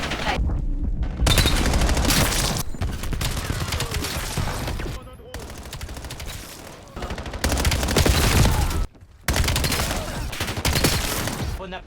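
Automatic gunfire from the M15 MOD-0 rifle in Black Ops 7, firing as loud, dense sustained bursts with brief gaps between them, mixed with game effects and a player talking in French.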